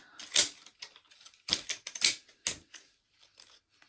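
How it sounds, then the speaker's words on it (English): Sharp scissors snip in a few quick crisp cuts, close and quiet, with pauses between clusters of snips. "I'll move my scissors around the edge."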